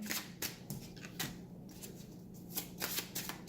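Tarot cards are shuffled close by in quick, papery riffling bursts separated by brief pauses, soft and alone without any voice.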